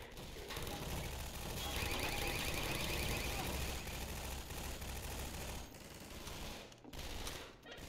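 Automated turrets firing in the Half-Life 2 video game, a dense, steady stream of rapid shots with rattling mechanical texture that runs loud for several seconds, then thins out into scattered bursts near the end.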